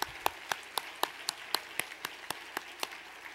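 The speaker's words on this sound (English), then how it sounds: "Let's give them all a big round of applause" A small gala dinner audience claps for award honorees, individual claps falling in a slow, even rhythm, roughly one per quarter second, crisp and moderately close with no talking.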